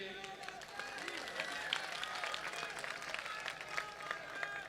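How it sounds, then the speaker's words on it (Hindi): Audience applause at a mushaira in Saharanpur, a dense sustained patter of many hands clapping at moderate distance, with a voice speaking over the crowd. "ताली बजाइए।"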